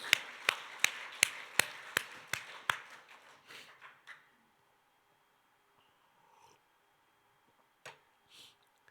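A church congregation at a Korean worship service claps in unison: about seven loud, evenly spaced claps that fade into a quieter patter, then silence broken by a couple of stray claps.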